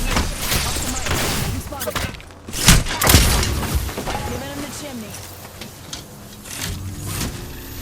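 Grenade explosions in the shooter Apex Legends: a couple of heavy booms land close together midway, set among scattered gunfire and clatter, with voices talking over the action.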